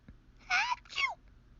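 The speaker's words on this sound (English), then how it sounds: "But I can't stop sneezing either." A cartoon character gives a quick two-part sneeze, a sharp high inhale followed by a burst, heard clearly and alone against a quiet background.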